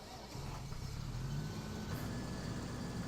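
A Challenger MT900E tractor from Farming Simulator 17 drones with a low, steady engine rumble throughout, faint and unvarying, no voices.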